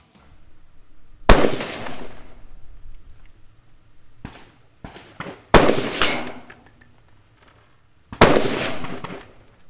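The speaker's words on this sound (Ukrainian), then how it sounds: "Ну і зараз спробую стрельнути три постріли на групу" Three loud, sharp gunshots from a Robinson XCR rifle firing 175-grain bullets a few seconds apart outdoors, each with a booming echo, plus a few fainter clanks between them.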